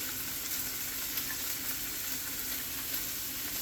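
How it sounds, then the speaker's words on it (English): Red pepper, onions, carrots and celery sizzle while stir-frying in a wok for fried rice, a steady close hiss that stays even throughout, with a few faint stirring clicks. "I'm going to try to keep those right in the middle and give them a little stir here and there."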